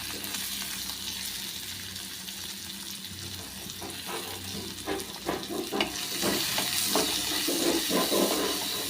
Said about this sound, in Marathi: थोडीशी परतून घेऊया म्हणजे थोडासा कांदा तर